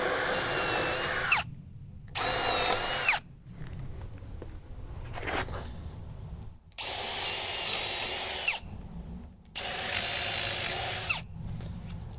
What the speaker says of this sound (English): Now I want to pre-drill these 4 holes as well, just through the joist.